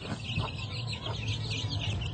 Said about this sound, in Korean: 이 집에서 키우고 있는 닭과 병아리.